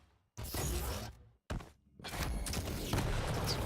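Rocket fire in the arena shooter Quake Champions, loud bursts of blasts and impacts split by short silent gaps, dense and close.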